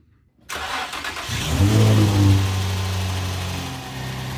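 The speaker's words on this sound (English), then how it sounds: "I'm going to go ahead and start the car with it still jacked up" After a brief silence the engine of a 2008 Infiniti FX35, jacked up with new accessory belts, cranks and catches, revving up and then settling into a steady idle close by.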